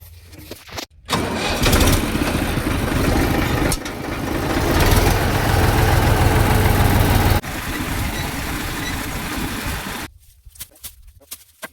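A tractor engine cranks and fires, then settles into a loud, steady, close idle that runs for most of the clip before dropping off near the end, on a cotton farm.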